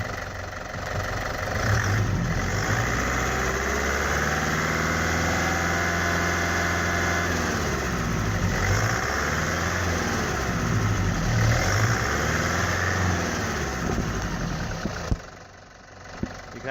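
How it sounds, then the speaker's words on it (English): A 2005 Toyota Land Cruiser 3.0 diesel engine with an intermittent stall fault runs at a steady, even drone with a couple of mild swells as it is revved, close and continuous before dropping off near the end. "if I rev the engine"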